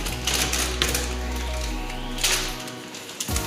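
Drawers in a kitchen cabinet of an empty house roll out with a sliding, clattering rumble, then end in a couple of soft knocks, heard close up.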